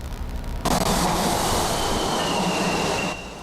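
A Miami Metrorail train rolls along the rails with a loud, steady roar of wheels and car noise, a high metallic squeal running through it, close by and without voices.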